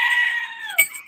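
A goat gives a single short, nasal bleat that wavers and drops in pitch, close and loud, with no talk over it.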